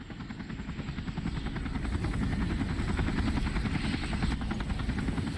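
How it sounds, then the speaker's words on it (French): A helicopter arrives in Resident Evil 4 Remake, its rotor thudding rapidly and swelling louder as it draws near, a steady low chopping roar with no voices over it. "L'hélico est là."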